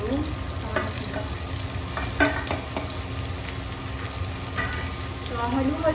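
Onions and tomatoes sauté in a pan for squid adobo, with a steady sizzle and repeated scraping and clacking of a utensil stirring, and occasional faint voices in the background.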